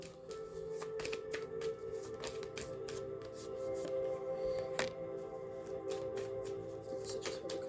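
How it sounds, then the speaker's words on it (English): Playing cards shuffled repeatedly while preparing for a tarot-style reading, a steady run of crisp riffling flutters and soft slaps up close, with a faint hum beneath and no talking. "as I shuffle these cards and prep them for the reading"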